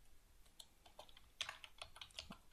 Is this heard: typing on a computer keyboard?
yes